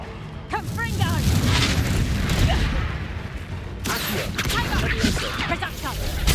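Confringo explosion spell cast during a battle in the Hogwarts Legacy video game: booming blasts and rumbling impacts over dense combat noise, with game voices shouting.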